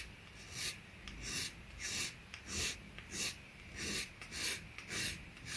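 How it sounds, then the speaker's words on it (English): A hand file rasps along the fuselage joints of a 1/72 MiG-17 PF plastic model kit, making soft, close scraping strokes in a steady back-and-forth rhythm, about ten passes. "The joints along the fuselage were also sanded smooth in no time with the help of the file"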